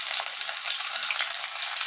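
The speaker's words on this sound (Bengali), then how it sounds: "জিরেটাকে একটু নাড়াচাড়া করে ভাজা করে নেব" Whole cumin, slit green chili and grated ginger sizzle in hot oil, a steady, close hiss of frying with no pause and no voices.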